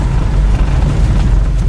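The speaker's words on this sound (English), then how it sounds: "the exhaust is blasting" Loud, continuous low exhaust rumble from a 1976 Datsun 280Z with a rough, booming texture, recorded close and steady throughout the short stretch.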